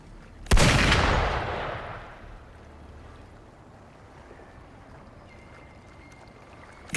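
A single sharp gunshot-like blast in the Wuthering Waves video game rings out and decays over a couple of seconds, followed by quiet ambient water and background hum.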